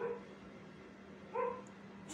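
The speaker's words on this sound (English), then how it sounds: "right now that dog is barking" A dog somewhere near a home gives a couple of faint, distant barks, one at the start and one more after a pause, over a low steady hum.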